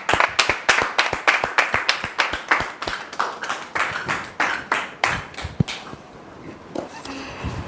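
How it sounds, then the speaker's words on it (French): Audience applause at a church gathering: many hands clapping in a dense, lively burst that gradually thins out and trails off into scattered claps near the end, with no talking. "Merci beaucoup de recevoir notre sœur sous vos applaudissements."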